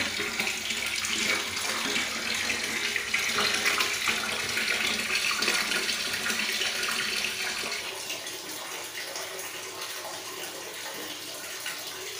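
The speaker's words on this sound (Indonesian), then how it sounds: "keran akan tertutup sendiri manakala airnya sudah penuh" Water runs steadily from a tap filling a container in a continuous hiss and splash that softens partway through as the flow eases.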